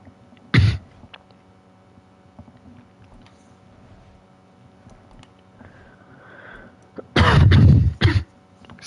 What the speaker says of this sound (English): Coughing getting a little excessive there